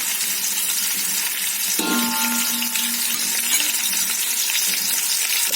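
A small amount of chopped onion frying in a pan for chicken daalcha, producing a steady, loud, continuous sizzle close by, with a brief clink and a ringing tone partway through.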